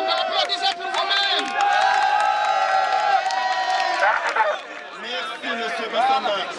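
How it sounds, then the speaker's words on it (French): Protest crowd at a 2019 demonstration against Alpha Condé in France cheering and clapping, with loud whoops and shouting voices over a dense, continuous roar of applause. "Applaudissez pour vous-même."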